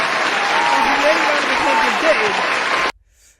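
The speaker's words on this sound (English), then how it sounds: "Round of applause for the FIA." Dense, steady applause from a celebrating crowd fills nearly three seconds at close range, with faint voices mixed in, then cuts off abruptly to near silence.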